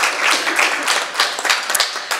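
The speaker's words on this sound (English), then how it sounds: "I'll take that round of applause" An audience at a Train Day 2015 event in Santa Barbara breaks into a steady round of applause, many hands clapping densely and continuously at a fairly loud level with no talk over it.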